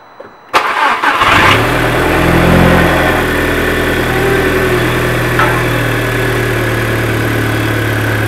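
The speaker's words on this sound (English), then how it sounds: "We're about to drop down the car and start it up" Car cold-starting after a clutch slave cylinder replacement: a sharp crank that catches into a loud, steady idle, rising briefly then settling into a close, even rumble.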